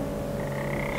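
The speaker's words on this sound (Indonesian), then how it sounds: "Yang ada suara kodok doang." A frog croaks outdoors at night in a continuous, droning chorus with steady pulsing tones, moderately loud and alone, with no talking.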